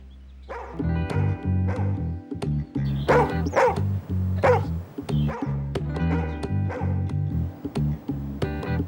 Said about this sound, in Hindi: ये भौंकने की आवाज कहाँ से आ रही है?